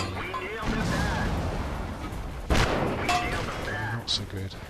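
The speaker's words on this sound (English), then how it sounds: "two of them were shooting at me and I couldn't take them fast enough" Tank gunfire in the World of Tanks video game, heavy cannon blasts and crashing impacts over a constant engine rumble, with one strong shot near the middle and a sharper hit toward the end. A voice talks underneath.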